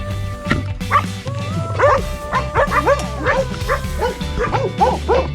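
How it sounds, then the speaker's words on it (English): Several dogs bark and yip repeatedly in close, overlapping bursts, with some whining between barks, loud and busy throughout. "These dogs also kept me awake big part of the night."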